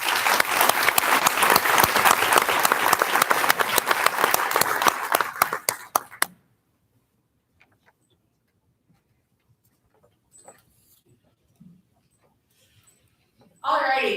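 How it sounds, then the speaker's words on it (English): Audience at a political training event claps loudly and steadily for about six seconds, then stops abruptly, leaving near silence with a few faint knocks before a voice begins speaking. "Another round of applause for yourself, because this is the hard work."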